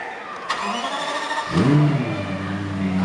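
A Lexus LFA supercar engine cranks and fires up, a brief starter whir followed by a sharp rising revving flare that settles into a steady, loud idle close by.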